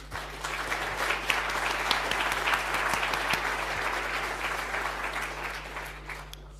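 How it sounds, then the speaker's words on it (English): A conference audience claps warmly to welcome a speaker before a talk on lasers in space, a dense, sustained applause lasting several seconds and fading slightly at the end, with a low electrical hum underneath. "Please give her a warm round of applause."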